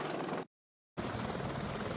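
Steady helicopter rotor roar, loud and continuous, broken by a brief half-second of total silence before resuming.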